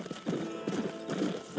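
Horse hooves clip-clop steadily in Red Dead Redemption, a close, even gait of repeated hoof strikes on the ground, with no voices over them.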